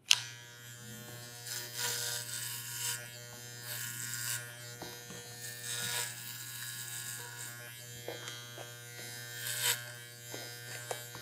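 Electric hair clippers take the lower sides of a man's old-school pompadour down to a zero, a close, steady buzzing hum with bright rasping bursts each time the blades pass through the hair.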